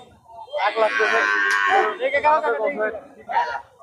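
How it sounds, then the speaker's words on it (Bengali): A Sahiwal cow at a busy cattle market gives a long, loud, close moo, then shorter lowing calls trail off. "অরিজিনাল শাহিওয়াল জাতের একটা গরু"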